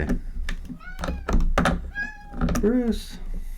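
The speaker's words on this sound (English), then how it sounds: "My cat has a lot to say." A house cat meows several times in short rising calls, close by, interleaved with a man's speech and some thumping from work on a skateboard setup.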